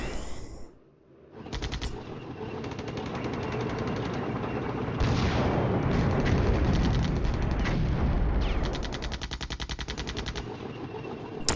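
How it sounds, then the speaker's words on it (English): A massive artillery barrage roars in the Flashpoint Campaigns Cold War video game, a dense, continuous rattle of rapid firing and booming impacts that swells louder midway and carries on for the whole stretch. "Firing a massive barrage into those two Lux."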